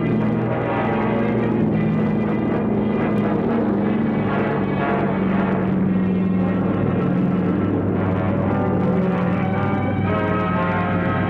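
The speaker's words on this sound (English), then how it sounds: "B-17s find the fleet and drop their bombs." Droning piston engines of B-17 bombers, a dense continuous low roar with propeller hum holding steady throughout, loud and unbroken with no voices.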